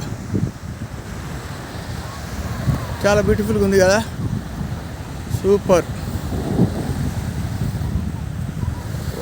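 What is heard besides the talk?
sea waves and wind at Al Sawadi beach, Muscat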